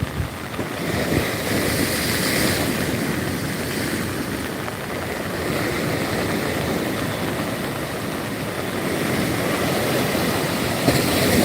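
Continuous broad rush of sea surf breaking on Digha beach, West Bengal, with wind buffeting the microphone, steady and fairly loud with no voices.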